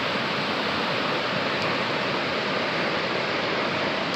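Ice-cold spring water welling up from the ground at an old gold camp, a steady close broadband rush and gurgle like a small stream, continuous and even throughout with no talk.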